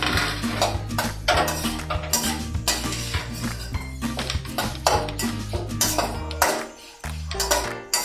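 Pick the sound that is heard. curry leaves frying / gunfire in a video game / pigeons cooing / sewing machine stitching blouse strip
curry leaves frying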